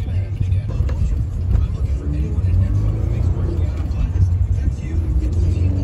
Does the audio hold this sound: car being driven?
yes